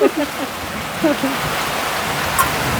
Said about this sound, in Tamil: சரியான மழை பயங்கரமான மழை பெய்யுது